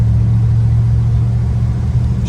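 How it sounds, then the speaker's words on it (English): A 1973 Dodge Charger's engine drones in a loud, steady low rumble from inside the car while driving on a scenic road, with no talk. "1973 Dodge Charger."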